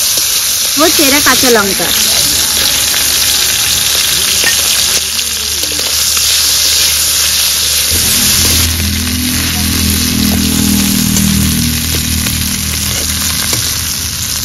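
Fish heads sizzling in hot oil in a pan with split green chillies, a steady loud frying hiss throughout, with stirring and a brief voice early on.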